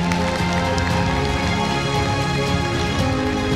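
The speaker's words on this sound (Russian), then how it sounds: "Аплодисменты чудесным людям!" Audience at a youth festival gala concert applauding the organizers: dense, steady clapping from a large crowd filling the hall throughout, loud and continuous with no pauses.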